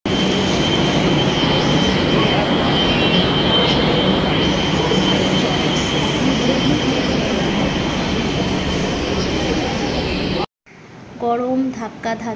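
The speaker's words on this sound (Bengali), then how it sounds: "সুন্দর করে মেট্রোতে করে চলে এসেছি আমরা।" A Kolkata metro train runs underground, loud and continuous with rumbling wheels, squeal and clatter for about ten seconds before a sudden cut to a quieter scene with a voice.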